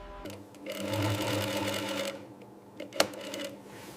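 A sewing machine stitches leather for luxury Cadillac limousine seats, running in a fast mechanical chatter for about two seconds, pausing, then a sharp metallic click before quieter running resumes.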